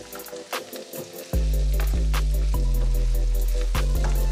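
Onions and a handful of cashews sautéing in a hot pan, a steady loud sizzle with a few brief clicks and taps of stirring, heard alone without talk.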